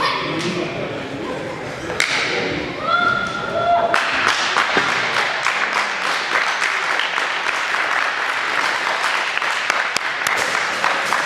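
A team claps together in a gym after a men's third-division match between Kormákur and Stál-Úlfur. Voices and a few sharp knocks come first, then dense, rapid applause fills the space steadily to the end.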